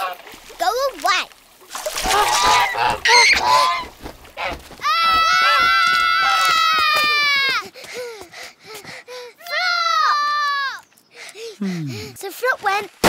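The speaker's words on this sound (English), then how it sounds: "That's a goose." A cartoon goose honks in loud, nasal bursts, with a long sustained honk and a shorter one later, among splashing water and a child's animated speech.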